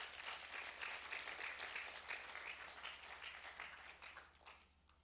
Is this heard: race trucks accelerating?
no